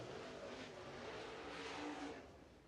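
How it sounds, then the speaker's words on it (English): Race cars roar around the track at Lancaster Motor Speedway, a steady broadband engine drone that swells slightly near the end and then eases off, with no talk over it. "more cars coming around."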